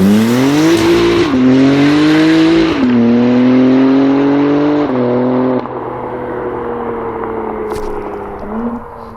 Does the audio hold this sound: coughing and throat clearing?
no